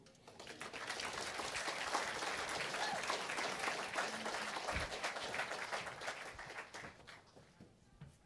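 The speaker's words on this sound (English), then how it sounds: "One more round of applause." Audience at a debate on the historical reliability of resurrection sources breaks into sustained applause, a dense steady clapping that fills the room for about seven seconds before thinning out at the end.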